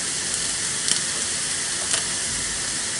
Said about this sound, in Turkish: Şimdi hemen baharatlarımla da biraz kavuracağım.